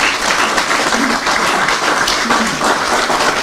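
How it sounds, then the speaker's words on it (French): An audience at a football federation general assembly applauds continuously, a dense, even wash of clapping at close range throughout. "ça mérite beaucoup plus d'applaudissements"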